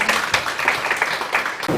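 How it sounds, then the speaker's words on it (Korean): Brief applause from attendees at a Gyeonggi food policy forum greets a team leader coming up to present, a short, moderately loud burst of many hands clapping together. "팀장님 큰 박수로 맞이해주시면 감사하겠습니다."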